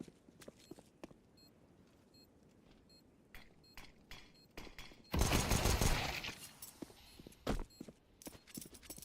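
Gunfire crackles in a shooter video game, scattered sharp single shots and faint footsteps, then a loud dense burst of rapid fire before a few more isolated shots.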